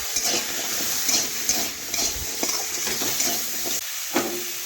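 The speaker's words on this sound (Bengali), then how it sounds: "কড়াইয়ের মধ্যে একটু তেল দিয়ে দিলাম আলু ও গাজর" Potatoes and carrots frying in oil in a wok give a steady, close sizzle and hiss, broken by scraping stirs, with no voices.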